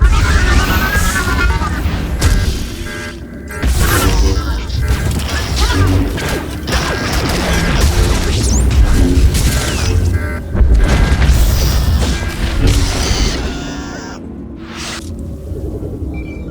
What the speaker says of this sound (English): Those factories are ripping themselves apart.